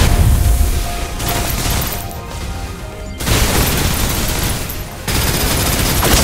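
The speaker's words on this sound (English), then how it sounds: "Suppressive fire." Sustained suppressive gunfire in the shooter Snowbreak: Containment Zone roars in loud, dense automatic bursts with heavy booming impacts, broken by two short lulls.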